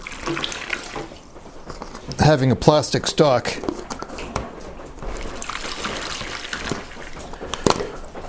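Steady rushing of water from a tap runs throughout while someone talks over it.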